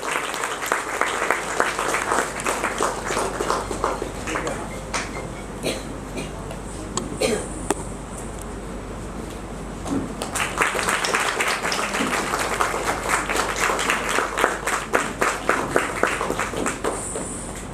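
Audience applause during an honouring at an Onam cultural programme, a long stretch of dense crowd clapping that thins to scattered claps midway, then swells again into full, steady applause, with voices mixed in.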